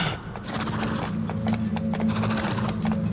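Horse hooves clip-clop in a steady, brisk rhythm over a low droning background, loud and close, in the video game Fable: The Journey.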